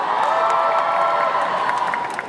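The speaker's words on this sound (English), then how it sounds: "please give him a huge round of applause" A festival crowd breaks into loud applause and cheering, with whoops and shouts over dense sustained clapping that stays strong throughout before easing slightly at the end.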